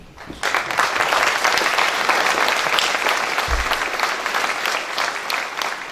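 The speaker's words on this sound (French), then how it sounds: "Je vous demande de bien vouloir les applaudir." An audience at a mayor's New Year address in Sainte-Maure-de-Touraine applauds steadily, a dense, even wash of many hands clapping that starts abruptly and holds throughout, with a faint thump partway.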